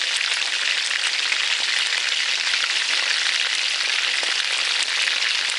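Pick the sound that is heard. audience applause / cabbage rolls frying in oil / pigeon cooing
cabbage rolls frying in oil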